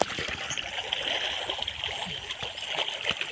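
Slow pouring of water over a cow at a village Mattu Pongal bathing, a steady, even trickle with faint gurgles, close and alone with little talk.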